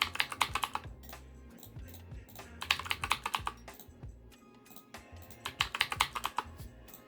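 A username and password are typed on a computer keyboard during a Windows account setup, with close, crisp clicks arriving in quick bursts separated by short pauses.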